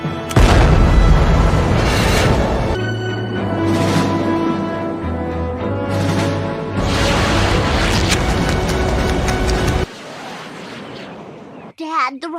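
Cartoon rocket from The Simpsons launching after a countdown, a loud sustained roaring blast with rumbling bursts that runs for about ten seconds before dropping to a quieter rush and a brief final thump.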